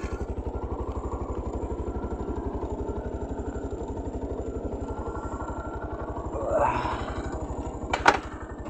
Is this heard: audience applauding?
no